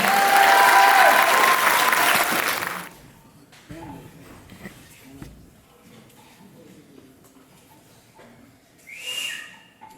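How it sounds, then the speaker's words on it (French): Dance show audience bursts into loud applause with whistles for about three seconds, then it cuts off to quiet murmuring and talk, with a brief whistle-like tone near the end. "Donc, on applaudit Flore."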